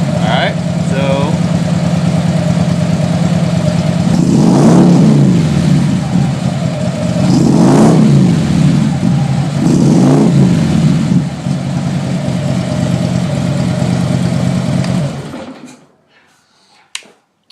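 A car fitted with a Freedom Performance exhaust idles with a deep drone, then revs three times in swelling bursts before settling back and cutting off near the end.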